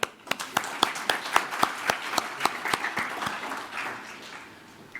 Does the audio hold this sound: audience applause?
yes